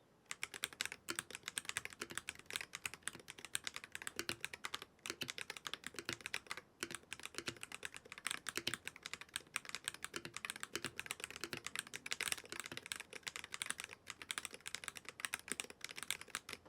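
Fast, continuous keystrokes on a keyboard fitted with TTC King of Magnetics switches, a dense, even clatter of crisp clicks heard alone and close for the whole stretch.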